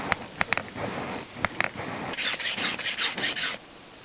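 A file rasps on a large iron nail being shaped into a metal arrowhead outdoors: a few sharp taps at first, then a run of rhythmic rubbing strokes, fairly faint.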